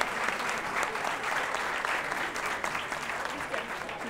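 Audience at a televised spelling contest applauds steadily, a dense, even clapping that fills the whole stretch without a break.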